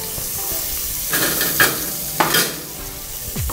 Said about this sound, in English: just I am adding olive oil, butter, little bit of garlic and sliced onion.